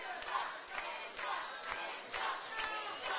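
At a combat fight event, a crowd on the floor roars and shouts in rising and falling surges, a dense rhythmic wall of cheering voices heard from a moderate distance.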